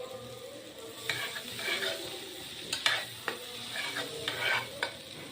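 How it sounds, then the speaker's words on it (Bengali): Prawns frying with onion, green chili and tomato in a pan are stirred, with several scraping strokes over a soft, continuous sizzle. "এখন আবারও আমি নেড়ে চেড়ে দিচ্ছি।"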